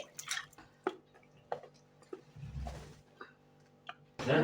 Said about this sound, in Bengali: দেখুন ফুলকপি আমি ভালো করে ধুয়ে নিচ্ছি